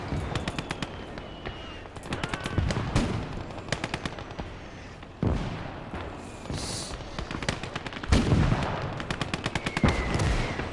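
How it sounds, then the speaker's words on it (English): Mortar barrage and gunfire in the WWII strategy game Call to Arms: Gates of Hell on the Eastern Front: rapid machine-gun bursts and scattered rifle shots punctuated by several heavy explosive thuds, loud and continuous. "So we've got a double mortar barrage."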